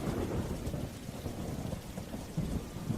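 Rain pours steadily with low rolling thunder beneath it, a dense, continuous storm wash at moderate level with no voices.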